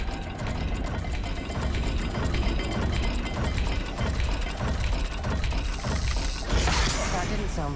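A puzzle dial mechanism turns in Hogwarts Legacy, giving a steady stream of ratcheting, gear-like clicks over a dense game soundscape that swells near the end.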